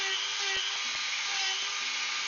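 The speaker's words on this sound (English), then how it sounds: "So this is, I suppose, a smaller belt sander version." A small belt sander smooths sawn foam, giving an even, unbroken high hiss throughout with a few faint low knocks beneath it.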